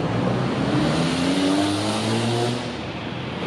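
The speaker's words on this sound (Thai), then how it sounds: "เสียงรถยนต์บิดกันแรงเหลือเกิน" Loud, dense engine roar with rising pitch as cars rev hard nearby beside a railway-side community near Phaya Thai, Bangkok, easing slightly toward the end.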